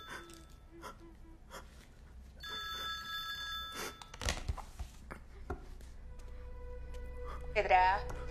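A telephone rings in a tense dramatic scene, with stacked tonal ring bursts between about 2.5 and 4 seconds and again near the end, amid voices and gasping breaths close by.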